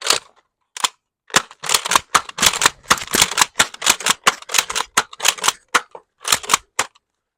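Rapid series of sharp snapping shots from an X-Shot Lock Blaster toy blaster, about fifteen crisp clicks and pops fired in quick irregular bursts, close and loud with brief silences between.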